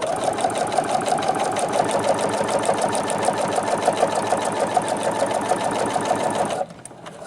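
A Singer Futura XL 550 sewing machine stitches faux leather in a fast, steady mechanical chatter of rapid needle strokes, running continuously close up before stopping abruptly near the end.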